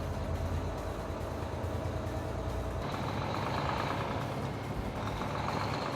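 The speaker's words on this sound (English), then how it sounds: "From startup, IShift skips shifts as much as possible and only uses the gears it needs." A Volvo truck with an I-Shift automated transmission pulls away, its engine a steady loud drone that drops in pitch at a gear change partway through and then climbs again, with no talk.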